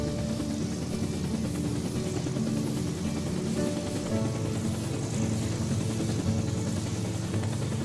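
A cartoon helicopter flies steadily, its rotor and engine making a dense, continuous mid-range drone at constant loudness throughout, with no talking over it.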